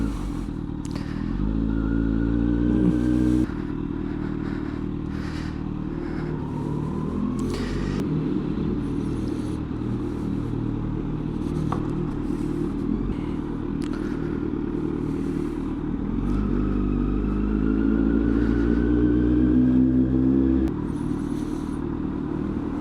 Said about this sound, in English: The bike itself feels and rides amazing. The exhaust, like I said, sounds amazing.